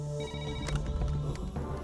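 A telephone rings in a police station with a steady electronic tone, fairly quiet, over a low background hum.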